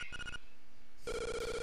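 An electronic telephone in the Link's Awakening video game rings in two bright, buzzing bursts separated by a brief quiet gap, loud and close with no other sound.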